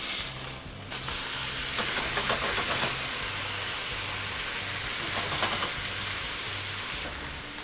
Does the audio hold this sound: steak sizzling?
yes